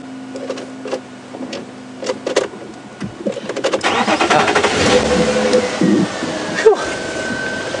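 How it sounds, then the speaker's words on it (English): A safari vehicle at Djuma Game Reserve cranks with a few whirring starter pulses, then the engine catches and rumbles loudly, revving up and settling into a steady idle nearby. "If we can start the car."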